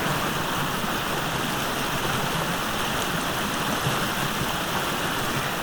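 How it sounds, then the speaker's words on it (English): A waterfall in Ibigawa, Gifu, heard as a constant broadband rushing of falling water, steady and full without pauses or voices. "if 2 waterfalls is not enough, there's a third right there"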